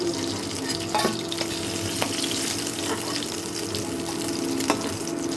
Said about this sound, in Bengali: মাছ ভাজাটা আমার হয়ে গেছে